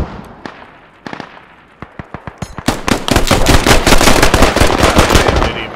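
Rapid bursts of video game shooter gunfire crack close and loud, thickening from scattered shots into sustained automatic fire as voices talk over the barrage.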